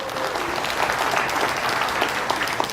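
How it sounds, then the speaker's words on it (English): An audience claps steadily for Amy at a real estate investing event, a dense, sustained round of applause with no voices over it. "can we give Amy a round of applause"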